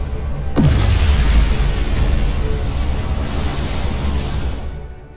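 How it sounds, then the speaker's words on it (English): A dilithium crystal explodes from a phaser shot in the Star Trek Resurgence video game, a sudden loud boom followed by a sustained roaring rumble that fades slowly over several seconds, with no voices. "Whoa! Dilithium explosion!"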